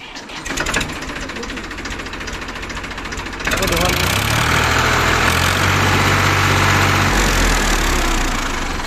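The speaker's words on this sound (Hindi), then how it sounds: "इंजन इसकी बहुत जोर की आवाज़ निकाल रहा है" A 2012 Farmtrac 45 or Eicher 485 diesel tractor idles close by with a loud, steady rumble that jumps to a heavier throb partway through.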